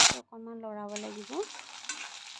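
Poha with peanuts and onion is stirred in a pan, a brief tonal whine giving way to a steady soft sizzle and scraping of the spoon, close and fairly quiet.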